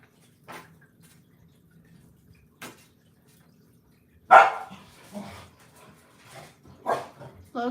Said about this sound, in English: Loki has to bark when Gin Love is up.